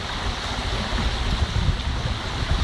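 Water pouring steadily from a ground drainage pipe during a flood in Tutrakan, a continuous rushing wash with no voices.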